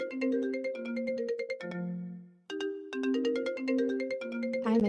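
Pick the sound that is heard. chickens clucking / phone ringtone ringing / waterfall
phone ringtone ringing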